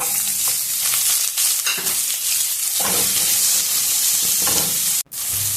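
Green chillies, curry leaves and onion pieces fry with shahjeera in a pan for carrot rice, giving a loud, steady crackling sizzle with bursts of stirring throughout, briefly cutting out near the end.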